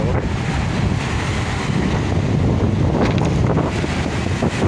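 Steady rushing roar of Manila Bay waves mixed with gusty wind buffeting the microphone, continuous and loud with no voices.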